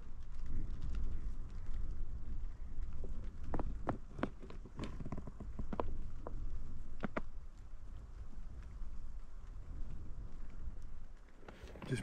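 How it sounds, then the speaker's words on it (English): Rain falls on a tent in a remote spot, a soft continuous patter with scattered sharper drops tapping the fabric, close by and steady with no talk. "That rain had stopped, but started again."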